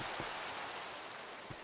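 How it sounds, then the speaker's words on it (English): Continuous soft rainfall in a video game, an even broadband hiss with faint low bumps near the start and end, and no one speaking. "And it's raining."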